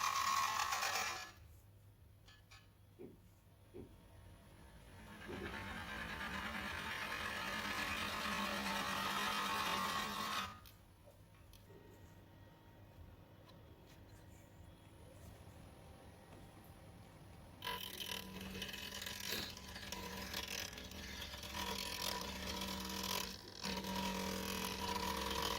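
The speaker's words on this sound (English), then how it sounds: "now we've started to hollow out the bottom of the bowl" A wood lathe hollows out the bottom of an oak bowl turned from a log, giving a steady broadband hiss of the tool cutting that drops away and returns in long passes over a low motor hum, with no talking.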